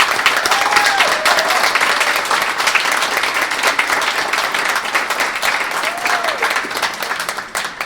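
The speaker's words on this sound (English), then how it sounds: "let's just give them a quick round of applause for the CFR staff" A large audience at an educator awards event applauds the staff with loud, dense clapping that slowly tapers toward the end, with a few voices calling out over it.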